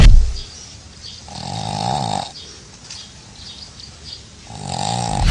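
Snoring from a sleeping dog: two long, rough, droning breaths about three seconds apart, fairly close and loud, with no talking.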